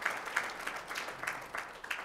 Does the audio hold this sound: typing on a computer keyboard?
no